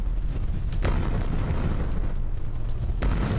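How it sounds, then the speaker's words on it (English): Carpet bombing in Source of Madness, a steady roar of overlapping explosions, booming and rumbling without a break, with sharper bursts standing out near the start and close to the end. "I'm just gonna carpet bomb the place"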